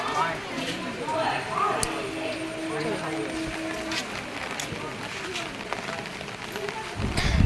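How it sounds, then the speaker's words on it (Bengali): Steady early-morning rain at Samudragarh railway station, a dense even hiss continuing throughout while a person speaks over it. "ভোর থেকেই শুরু হয়েছে ঠিক এরকম বৃষ্টি"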